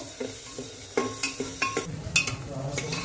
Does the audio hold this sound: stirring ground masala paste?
yes